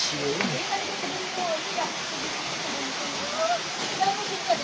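Steady broadband rush of Kakawayan Falls in Infanta, Quezon, a constant near water roar filling the whole clip, with faint voices and scattered bird-like chirps above it.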